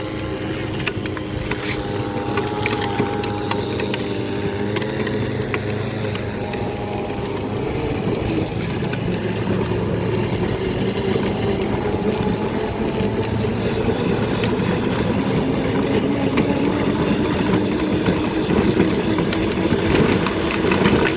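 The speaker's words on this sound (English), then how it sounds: "now this is the rear motor. Accelerating." A 24V electric drift trike's rear motor accelerating, a continuous loud whirring drone held steady and close throughout, with a faint tonal whine rising slightly, no speech.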